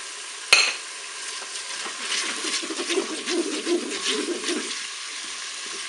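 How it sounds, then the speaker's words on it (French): Onions tip into tuna cooking in a Cookeo multicooker, bringing a sharp clatter followed by steady stirring and soft sizzling close by, with no talking. "Allez, je vais ajouter mes oignons."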